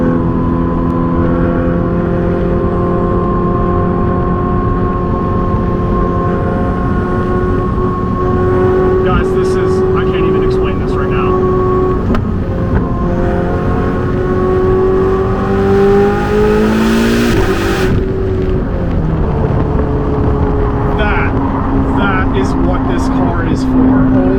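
A Ferrari 488 GTB picks up speed from about 30 mph, its engine a steady droning roar with rising and shifting tones heard from inside the cabin, while a voice talks over it.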